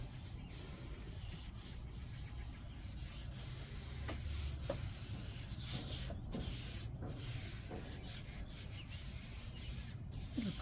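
Steel wool rubbing across a lacquered zebrawood tabletop during refinishing, a steady scratchy abrasion that continues throughout with small surges and pauses, heard close up with no talking.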